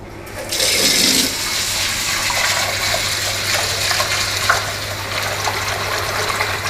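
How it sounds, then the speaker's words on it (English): Lentils are washed under running water, a steady gushing tap stream splashing into a bowl or pot, loud and continuous from start to finish, with slight surges as the water churns the lentils. "First, I'm going to wash the lentil really well, and this is to get rid of any debris or any impurities."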